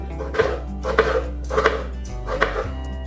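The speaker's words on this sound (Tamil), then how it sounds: "இந்த மாதிரி சீப்பு சீப்பாக வெட்டணும்" A knife chops rhythmically through tomatoes on a board, four firm cuts spaced about half a second apart, close and clear with no talking.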